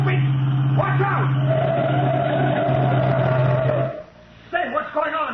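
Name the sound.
car forced to the curb, skidding, radio drama effect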